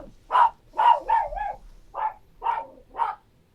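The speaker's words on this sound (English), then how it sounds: "Dog." A dog barks in a run of about seven separate barks, each loud and close with a slightly yelping, wavering tone, spaced roughly half a second apart with quiet gaps between.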